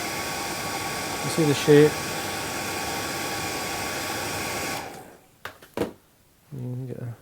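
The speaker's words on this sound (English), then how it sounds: "get the old hair dryer out. You can blow it back, see how it's actually sitting." A hair dryer blows on a freshly tied Robbies Terror seatrout fly with a loud, steady whoosh for about five seconds, then cuts off. Someone speaks briefly afterward.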